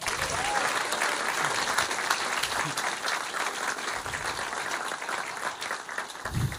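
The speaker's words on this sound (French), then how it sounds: "On applaudit Walter, s'il vous plaît." Sustained loud applause from a crowd, dense and continuous clapping throughout.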